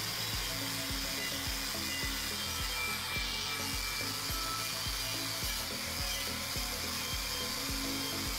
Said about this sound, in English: Here's Joe doing some more prep work using the wire cup wheel.